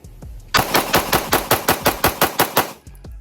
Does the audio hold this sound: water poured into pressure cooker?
no